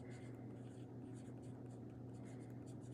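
Faint, continuous scratching of a medium-nib fountain pen moving across paper, close and quiet, with soft rhythmic strokes over a low room hum.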